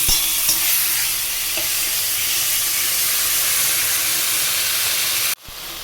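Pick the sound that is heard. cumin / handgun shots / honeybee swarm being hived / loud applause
cumin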